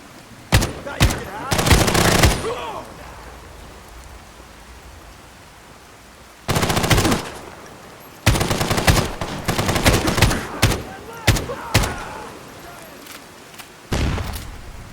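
Bursts of automatic gunfire in Fallout 4, a few short rattling volleys early, then longer loud bursts in the middle and a final burst near the end, separated by quieter stretches of ambient game noise.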